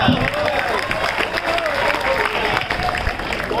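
An audience at a revolutionary Hindi poetry gathering held for Veer Savarkar's birthday claps and cheers in a continuous crowd roar, with a voice speaking over the applause.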